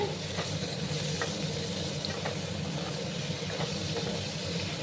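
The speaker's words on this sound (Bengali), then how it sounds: "এই যে ভেন্ডিগুলো এবার দিয়ে ভালো করে আমি এটাকে ভেজে নেব।" Okra sizzles steadily in a hot pan while being stirred, with a constant frying hiss and occasional soft scraping clicks from the spoon, close and continuous throughout.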